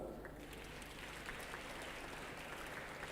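Faint, distant applause from an audience at a blockchain technology sensitisation meeting, a soft continuous patter of clapping throughout.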